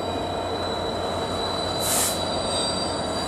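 A British Rail Class 66 diesel locomotive, unit 66764, rolls into Ely Loop with a broken-down train, its wheels giving a steady metallic squeal over a continuous rail rumble and a brief louder swell midway.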